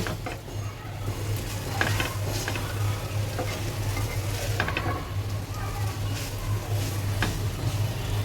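Vegetables and spices being stirred into noodles in a pan: repeated scraping and clattering stir strokes over a low, steady sizzle and hum, close and fairly quiet.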